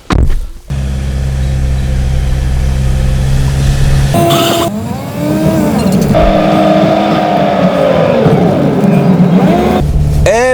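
Car engine drones steadily throughout, loud and close from inside the vehicle at the start of a long road trip, with a brief door or shift in sound midway and shifting tonal whine.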